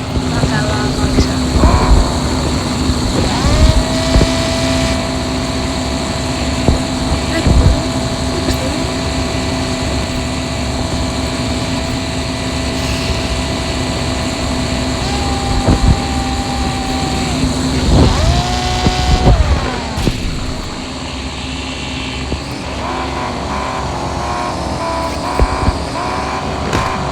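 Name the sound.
car engine driving in the video game Car Parking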